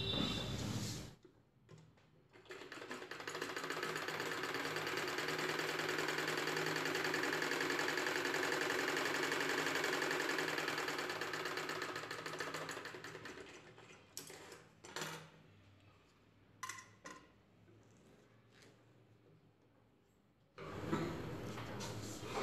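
A sewing machine stitches umbrella top dress pieces together, running steadily and loudly for about eleven seconds, then slowing and stopping, followed by a few short clicks and handling sounds before a brief restart near the end.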